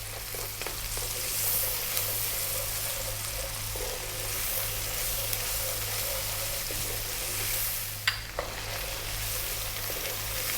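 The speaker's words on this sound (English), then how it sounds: "The tablespoon of garlic ginger paste. And we're going to cook that just for 3 minutes on this high heat." Chili and garlic ginger paste frying on high heat for a chicken curry, a steady, loud sizzle held close throughout, with a couple of faint clinks from stirring and no voices.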